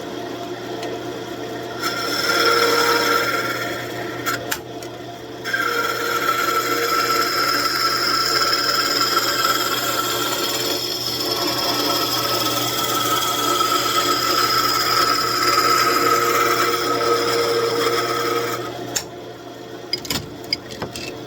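A gouge cuts maple cribbage pegs on a wood lathe, producing a loud, continuous rasping scrape with the motor's hum beneath. It pauses briefly a couple of times before the cutting resumes, with no speech.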